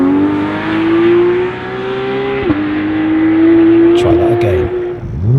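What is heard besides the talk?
Porsche 991.2 GT3 accelerating hard from full throttle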